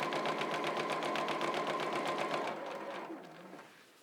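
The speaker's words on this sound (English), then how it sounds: "so I'm just going to start stitching" A sewing machine stitches pajama pants in a fast, even rhythmic chatter of needle strokes, close and steady, then slows and fades away over the last second.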